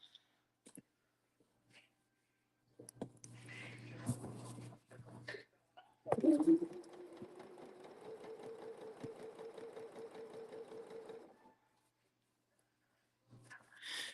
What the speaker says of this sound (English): we will continue with the sewing a straight line.